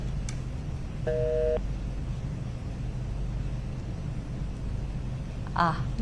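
A disconnect tone cuts off a caller on a live TV call-in health show: one short electronic beep of about half a second, heard over a steady low hum, with a faint chirp near the end.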